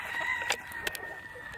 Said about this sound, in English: God, hear those chickens?